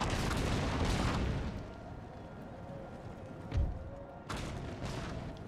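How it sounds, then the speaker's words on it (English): Carcass shot artillery firing in Empire: Total War, a rolling din of distant cannon and musket fire with one heavier boom partway through and another surge near the end. "Now here comes carcass shot"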